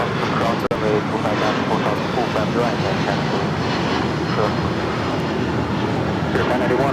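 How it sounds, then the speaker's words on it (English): United Airlines Boeing 757-200 jet airliner taking off from LAX bound for Newark, a loud continuous engine roar with broad rumble holding steady throughout, one brief click near the start. "This is United Airlines Flight 1700 taking off to Newark on the 757-200."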